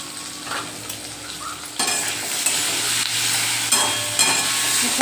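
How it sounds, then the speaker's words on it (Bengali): Potatoes frying in a pan with salt and turmeric, giving a steady close sizzle that grows louder partway through, with scraping stirs and a few clinks of utensil on the pan. "এখন অল্প লাল লাল করে আলুটা ভাজা হোক"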